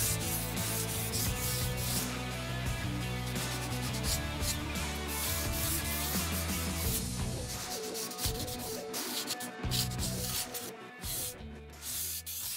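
Hand sanding of painted wood with 320-grit sandpaper, no machine, to lightly dull the paint: repeated close rubbing and scratching strokes in an irregular rhythm, fairly quiet, with no talking.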